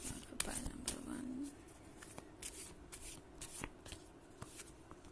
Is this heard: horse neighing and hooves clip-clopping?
no